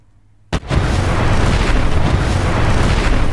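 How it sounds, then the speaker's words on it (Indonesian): Missile strike on a house in a film scene: a sudden loud boom after a moment of near silence, followed by a sustained heavy roar of blast and debris filling the rest. "mereka melihat rumah tempat mereka beristirahat akan ditembak dengan rudal"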